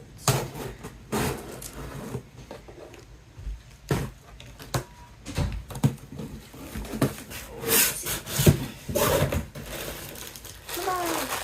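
A nail file scrapes and rubs against a cardboard box in uneven bursts, with crinkling and a few sharp taps, close by and moderately loud.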